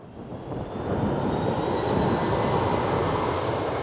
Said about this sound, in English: The 747 landed safely